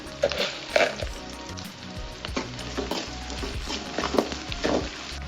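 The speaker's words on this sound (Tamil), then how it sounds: "வெங்காயம் வதங்குறதுக்காக கொஞ்சம் கல்லுப்பு சேர்த்துக்கிறேன்." Onions with rock salt sautéing in a pan for fish curry, a steady close sizzle broken by clattering stirring strokes at an uneven pace, with no voices.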